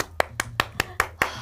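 Seven sharp hand claps in a steady, evenly spaced rhythm, close and distinct, with no talking over them, heard during a sushi party.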